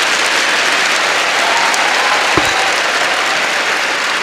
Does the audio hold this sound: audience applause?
yes